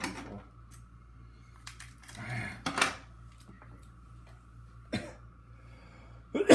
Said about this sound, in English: The cough already is not good.